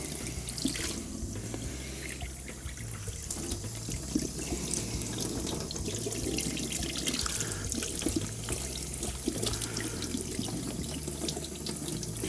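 Cured salmon fillet being rinsed under a running kitchen tap, water pouring steadily into a sink with splashing and dribbling as it is rubbed to wash off salt and sugar, continuous and close with no talking.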